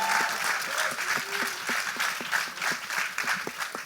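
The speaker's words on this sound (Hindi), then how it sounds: "जोरदार तालियां" Loud audience applause at a film trailer launch event for Gustaakh Ishq, with rapid dense clapping and some distinct nearer claps, sustained evenly throughout.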